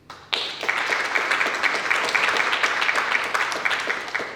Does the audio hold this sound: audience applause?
yes